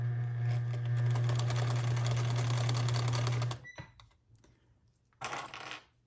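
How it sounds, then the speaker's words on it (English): A sewing machine stitches a headband seam at the corner with a 3/8 inch seam allowance, its loud steady motor hum running for a few seconds, then stopping, followed by brief handling rustles and a short burst of movement. "I'll just place this under the presser foot, starting at the corner with my 3/8 inch seam allowance, and sew from the corner"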